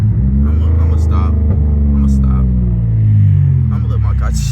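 The tuned, catless Pontiac Grand Prix GT's engine rumbles loud and near, its deep exhaust note rising and falling through revs while someone talks over it.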